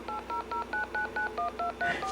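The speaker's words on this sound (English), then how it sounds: "the phone should automatically pick up these tones, and it would be just like you were dialing it on the keypad" A rapid, evenly spaced run of about ten DTMF touch-tone beeps from an Atari Portfolio pocket computer dialing a number, loud and steady with short gaps between tones.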